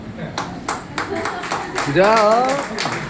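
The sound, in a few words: clapping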